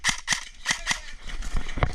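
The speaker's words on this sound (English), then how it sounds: "He's shooting right at you." Airsoft sniper gun firing during a capture-the-flag game, four sharp snapping shots in quick succession followed by softer clicks and pops, close and fairly loud.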